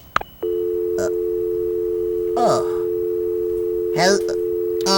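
A steady telephone dial tone hums continuously from a dropped handset, with brief muffled clatter at the start and faint voices in the background.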